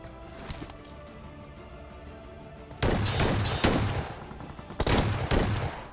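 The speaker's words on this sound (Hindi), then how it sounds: "अब मेरे पास यहाँ पे शॉटगन था तो भाई एक दो मतलब शॉट फायर करता हूँ" Shotgun blasts in a battle royale video game, two heavy bursts of gunfire a couple of seconds apart after a quieter stretch of game ambience, loud and close with no talking.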